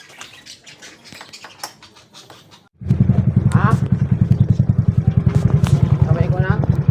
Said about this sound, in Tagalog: Pandarin na lang natin ang motor.